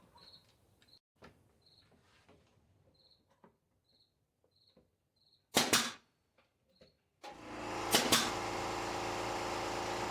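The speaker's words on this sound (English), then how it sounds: "I'm going to use my nail gun to put some brads in the bottom of it" A nail gun fires brads into the bottom of a wooden birdhouse with two loud, sharp bursts, one in the middle and one near the end, standing out against steady insect chirps and then a constant hum.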